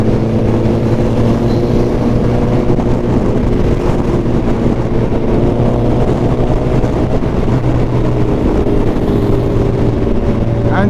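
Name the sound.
Suzuki Hayabusa motorcycle at full throttle in sixth gear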